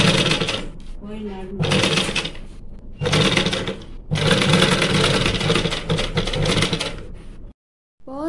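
Domestic sewing machine stitching lace onto a fabric blouse panel, running in several bursts of steady mechanical whirring with brief pauses between them, close and fairly loud.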